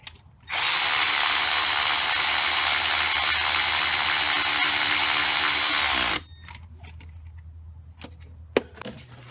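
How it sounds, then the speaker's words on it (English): Power ratchet driving a 14 mm bolt on the starter of a 2007 Pontiac Vibe, one loud continuous whir of about six seconds, then quieter clicks and handling of tools. "let's get our 14 millimeter and tighten this top one"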